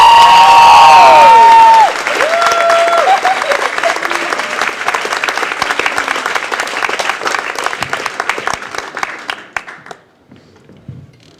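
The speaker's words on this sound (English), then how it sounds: "Start clapping for the very funny Traci Kampel, everybody" Comedy club audience at Gotham Comedy Club clapping and cheering for a comedian, starting with a loud whoop over dense applause that gradually thins and fades to near silence.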